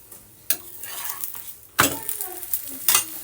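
Cauliflower paratha sizzles in ghee on a hot pan as it is flipped, giving three short bursts of sizzle mixed with scraping and clinking from the spatula against the pan, close and fairly loud.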